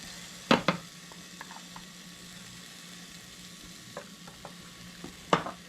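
Onions sautéing in a pan for a summer squash casserole, a soft continuous sizzle beneath a few sharp clinks of a utensil against the pan, near and without talk.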